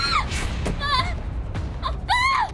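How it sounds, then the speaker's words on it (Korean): A woman screams from somewhere on an upper floor of an apartment building, several high, rising and wavering cries in short bursts over a steady low rumble. "여성의 비명 소리는 선명하게 들렸습니다"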